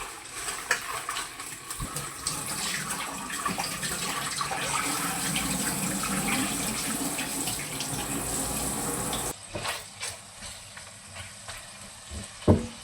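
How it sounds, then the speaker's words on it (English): Running tap water pouring steadily while vegetables are washed in a kitchen sink, a continuous close splash that stops abruptly, followed by a few light clatters. "I'm just washing my vegetables."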